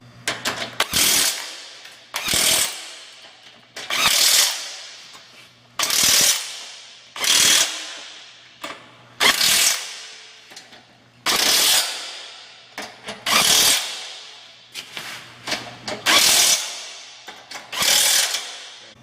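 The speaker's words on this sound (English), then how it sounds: "Now use a dead blow hammer to seat the 2 handles together firmly." A dead blow hammer seats the two handles of a carcass cart together firmly with about a dozen loud, sharp strikes at a steady rhythm, each followed by a short ringing tail.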